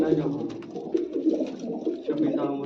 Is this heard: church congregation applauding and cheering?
no